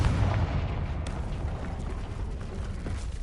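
Bombarda and Confringo explosion spells cast in Hogwarts Legacy, heard as a loud, dense, booming blast and rumble that starts strong and then holds as steady broadband roar throughout.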